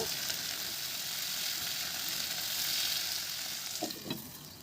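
Onion frying in a pan until soft, a soft continuous sizzle at low level with a couple of small stirring knocks toward the end.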